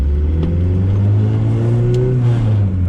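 Turbocharged Ford EF hatch engine hums steadily from inside the car while cruising on the street, a loud, continuous drone that swells slightly in pitch midway, with no talking.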